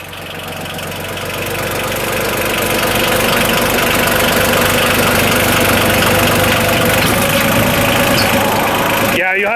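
A restored 1989 Yanmar 2220D tractor's diesel engine idles steadily after a full overhaul, a close, loud, even knocking rumble that builds slightly at first and then holds until it cuts off abruptly at the end.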